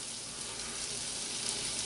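Continuous bright hiss of beef tenderloin sizzling in a hot pan on the stove, steady and close, with no voices.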